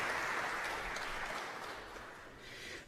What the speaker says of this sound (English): I want to give them a round of applause because this is an excellent job.